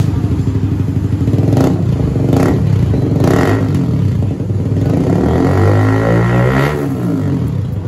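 A Honda CBR150R with an upgraded exhaust revs up close and loud in repeated sharp blips, with a crackling, throaty note and gurgling pops as the revs drop away near the end, and no voices.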